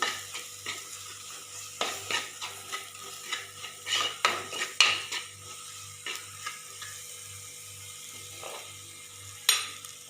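Chili powder with Kashmiri chili powder, roasting in a pan: a soft sizzle under repeated scraping and clinking strokes of a spoon stirring against the pan, close by and irregular.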